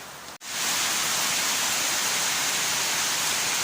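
Heavy rain pours steadily in a rural island province, a dense, loud, continuous broadband hiss that starts after a brief near-silent break and then holds unbroken with no voices.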